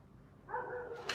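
A pet dog named Marley barks outdoors, heard from inside as a short, moderately distant burst of excited barking that grows louder partway through.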